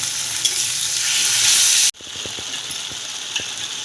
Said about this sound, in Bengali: দিয়ে ভালো করে একটু ভেজে নেব